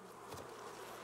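Bees in the video game The Cub give a faint, steady insect buzz over a low background drone, with one brief swell in the middle and no talking.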